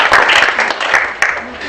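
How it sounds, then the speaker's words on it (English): Brief burst of audience applause at a low-tech innovation prize-giving ceremony, close and fairly loud, fading quickly. "Let's give him a round of applause."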